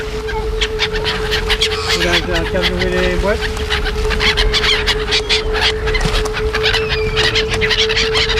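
Honking and squawking calls of waterfowl over a steady background hum, with a brief burst of louder calls near the start.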